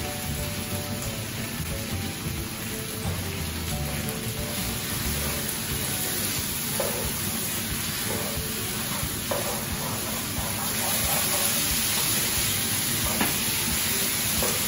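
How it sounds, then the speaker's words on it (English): Salted mutton sizzles steadily in hot oil in a frying pan, a dense, even crackling hiss that holds at a constant level throughout with faint scraping of stirring. "We've been pan frying this for a good 5 minutes. I can see that the oil is coming out."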